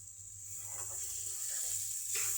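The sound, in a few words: chicken curry masala frying in oil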